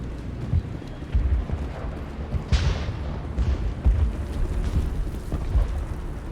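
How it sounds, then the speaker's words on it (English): Rumbling booms and bursts of gunfire echo through a Mass Effect battle, heavy low blasts recurring against a constant roar of combat. "How is a woman supposed to think with guns going off all around?"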